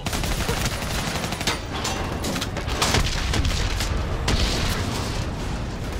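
Missile strike on an armored personnel carrier in Call of Duty Black Ops 3, amid loud continuous gunfire and heavy booming explosions in a dense battle soundscape.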